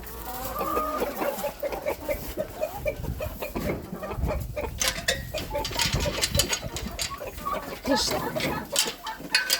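Chickens cluck and squawk busily at close range as feed is scattered on the ground, with a short murmur of a voice and a faint low engine hum in the background.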